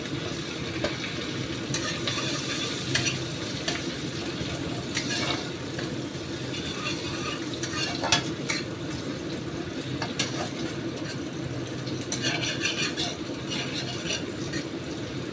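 Steady sizzling of onions frying in a pan with asafoetida, continuous and fairly close, with occasional stirring scrapes.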